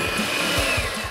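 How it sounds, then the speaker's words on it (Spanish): An electric hand mixer beats egg whites with sugar toward stiff peaks, giving a steady whirring drone throughout, close and continuous with no talk. "vamos a tomar nuestra batidora y vamos a empezar a batir"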